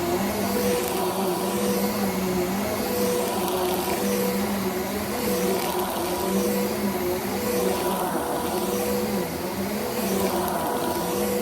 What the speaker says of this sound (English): we're gonna get into this Bissell vacuum cleaner